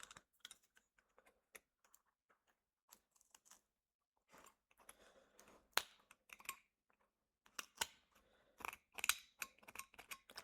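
A carving knife cuts a flap off a woodcarving in quiet, close-up ticks and scrapes, sparse at first and then quickening into clustered little cuts and snaps against near silence.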